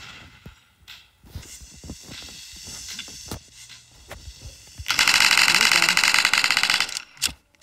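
A submachine gun fires in a Roblox game, a dense, loud burst of rapid shots lasting about two seconds, preceded by scattered clicks, thumps and movement sounds.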